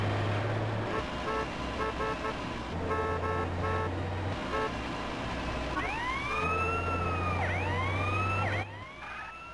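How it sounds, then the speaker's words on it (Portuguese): A vehicle siren in the GTA San Andreas video game wails and whoops with rising and falling sweeps over steady engine drone and rapid electronic tones, loud and continuous before cutting out at the end. "Vai, velho, desliga essa sirene."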